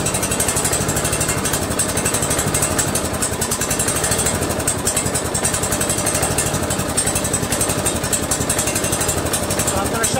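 A Kawasaki FB460V engine on a Yazoo commercial walk-behind lawn mower, rigged with a makeshift throttle, runs steadily and loud up close, a continuous rattling mechanical drone with someone talking over it.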